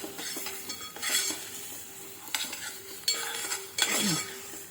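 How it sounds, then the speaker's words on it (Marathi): Chicken sautéing in a pan: a spatula scrapes and stirs in bursts over a continuous low sizzle, with occasional metallic clanks. "आता मी यामध्ये थोडा वेळ परतवून घेते आहे."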